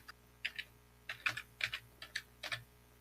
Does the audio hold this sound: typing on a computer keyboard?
yes